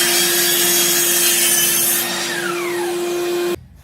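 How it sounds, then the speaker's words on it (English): A miter saw slicing through a wood piece butted against a stop block in a woodworking shop, a loud steady whine and rasping cut that winds down before cutting off abruptly. "then you can just butt your piece up against there, run your saw down"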